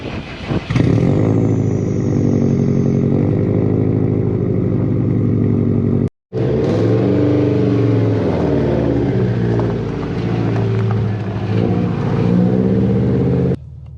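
A heavily modified Subaru Impreza WRX STI with a 2.1-litre stroker engine making 456 bhp accelerates in light drizzle, its loud, close engine note rising and falling through revs with a brief gap midway and no talking.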